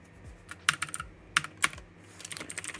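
Quick clusters of keystrokes clatter on a computer keyboard during a Roblox Studio coding session, coming in short irregular bursts with brief pauses between them, close and clear.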